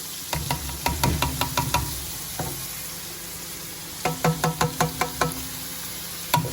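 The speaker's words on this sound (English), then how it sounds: "So I'm going to be adding that one into my pan right now. You can see the oil, it's quite hot." Chopped brown onion frying in hot oil in a pan, a steady sizzle broken by quick bursts of rhythmic knocking and scraping, close up with a pause between the two runs.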